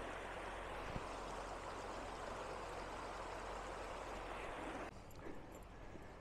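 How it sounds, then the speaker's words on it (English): A small creek runs right beside a highway, its steady broadband rush of flowing water continuous and fairly close, easing slightly near the end. "here's a nice little creek right off the side of the highway."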